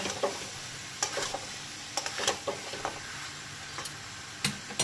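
A katla fish head sizzles and fries in a spice paste, a low steady crackle with intermittent sharp taps and scrapes of a spatula against the pan every second or so.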